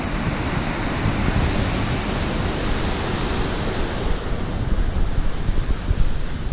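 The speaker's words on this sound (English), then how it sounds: "Nice waterfall." Rushing water from a mountain waterfall in a valley pours in a dense, continuous roar close by, loud and steady throughout with no voices.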